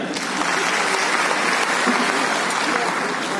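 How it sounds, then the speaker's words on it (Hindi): A large crowd at a business meeting claps loudly and continuously, a thick, even roar of applause with no pauses. "अपने आप के लिए एक जोरदार तालियां।"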